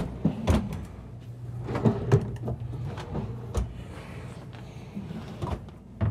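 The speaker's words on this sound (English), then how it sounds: "And then we have six nice big drawers." Large drawers in a 2023 Newmar Super Star 4065 bunk-bed motorhome slide open and shut, giving several soft thuds and rolling knocks at close range over a low, steady background hum.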